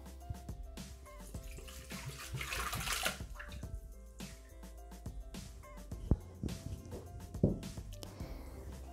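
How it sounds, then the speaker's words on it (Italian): Water poured into the jar of a Thermomix food processor while making an eggplant cream, a steady splashing, gurgling stream lasting several seconds, with clinks and handling noises around it and no voices. "Iniziamo la ricetta mettendo all'interno del boccale l'acqua."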